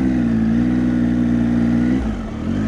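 A motorcycle engine holds a steady, close drone as the rider feeds power during slow riding, then briefly dips near the end before picking back up.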